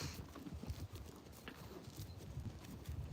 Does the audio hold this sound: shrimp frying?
no